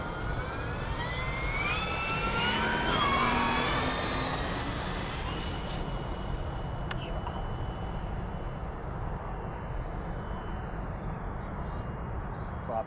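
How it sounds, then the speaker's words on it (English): A loud, steady roar of the high-revving electric motors of an FMS Tigercat 1700mm RC plane spinning up, whining tones rising in pitch, continuous throughout, likely with faint voices underneath. "You spin up those motors, they sound just awesome"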